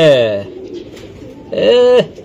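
A racing pigeon cooing loudly and close by, two bursts of deep warbling coos separated by a short gap, with faint talk in the background.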